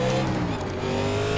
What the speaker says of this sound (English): Shane spins his tires up.